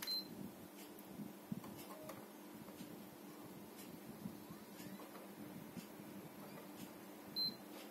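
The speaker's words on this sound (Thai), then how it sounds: "พอกดปุ๊บเนี่ยมันจะมีเสียงติ๊ดครั้งหนึ่งนะครับ" A PS4 console's power button is held down to enter safe mode, giving a short, quiet, high-pitched beep at the start and another about seven seconds later in an otherwise hushed room.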